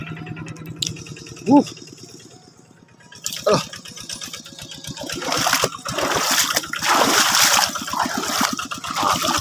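Water trickles and splashes into a rice paddy, with a low engine rumble pulsing underneath and voices talking over it, the splashing building louder in the second half.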